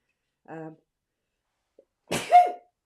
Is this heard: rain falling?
no